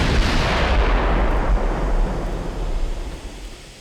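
A heavy naval gun salvo from the battleship Richelieu at point-blank range in the Ultimate Admiral Dreadnoughts warship game: one deep, loud booming blast that rolls on and slowly fades over several seconds.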